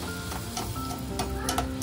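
Luchi frying in hot oil, a continuous crackling sizzle with scattered sharp pops and bubbling, close and moderately loud, no talking.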